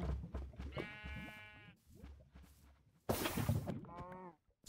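Animal calls in Minecraft, with two bursts of stacked, bleating tones, one near the start and one near the end, among clicky footsteps and game noise, plus a loud rushing burst in between.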